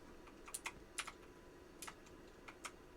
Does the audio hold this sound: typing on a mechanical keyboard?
yes